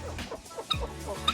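Chickens being fed, giving a few short, close clucks in a quick irregular run, with a sharper squawk near the middle and another at the end.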